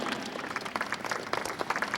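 Scattered hand clapping from a small audition crowd at a professional cheerleader dance tryout for the San Diego Chargers squad, steady and uneven, moderately close, with no talking.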